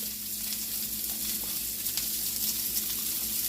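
Salmon and pineapple sizzling in an uncovered pan, a steady close crackling fry with a low hum underneath throughout.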